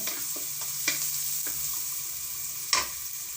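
Ginger hitting a hot pan of ginataang kalabasa with sitaw and crab, a steady soft sizzle with a few sharp stirring clinks of a utensil, no talk.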